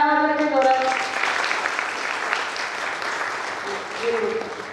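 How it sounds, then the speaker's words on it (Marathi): A hall audience at a career guidance session claps together in a loud, sustained round. A voice speaks over the start and a bit near the end. "सर्वांनी टाळ्या वाजवायच्या जोरात."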